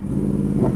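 Motorcycles on an open road sweep past a rider in a brief, loud rush of engine roar and revving, close and unbroken for under a second.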